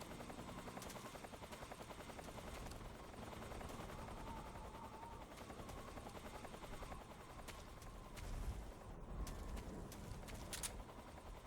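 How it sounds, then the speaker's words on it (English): Enemy helicopter in Metal Gear Solid 3, a steady rapid rotor chop droning continuously at moderate distance, with scattered sharp cracks and birdlike chirps over it. "I'm tired of hearing your chopper."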